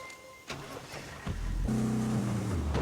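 A car in the open-world shooter Ghost Recon Breakpoint, its engine catching and then revving up into a loud rising drone with clear gear-like steps in pitch.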